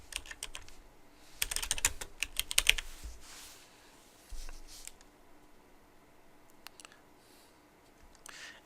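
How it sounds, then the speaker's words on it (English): Faint keystrokes on a computer keyboard come in short bursts with pauses, close but quiet against a soft background hiss. "So I'm going to type that in here."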